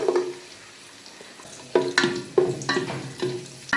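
About 15 grams of raisins, for egg biryani, frying in hot fat in a pan after cashews, a soft sizzle with a series of sharp scraping stirs close by.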